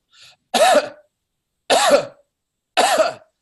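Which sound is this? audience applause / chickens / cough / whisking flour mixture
cough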